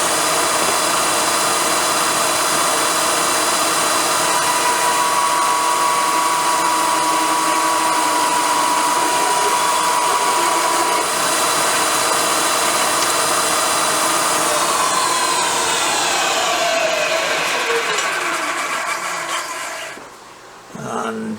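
Power drill boring a 3/4-inch hole during a BSA B50T motorcycle upgrade, a loud steady whine that holds for most of the stretch, then slows and drops in pitch as it winds down near the end.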